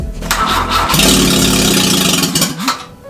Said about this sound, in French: j'ai quand même retenté de démarrer ma 104 plusieurs fois